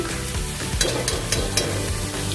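Food frying in a pan: a loud, close sizzle under repeated stirring, with several sharp spoon scrapes and clicks spaced through it and a low rumble underneath.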